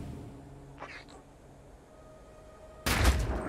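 A single gunshot in the Phoenix Point video game, one loud, sharp blast near the end that follows a short, quiet, higher-pitched electronic sound.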